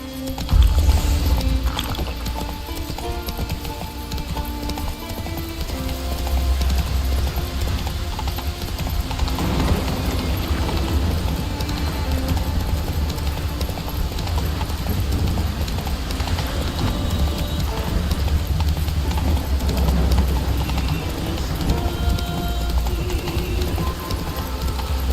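Hooves of the horse Roach gallop in a video game as a loud, steady clip-clop rhythm that runs throughout, over a low rumbling background.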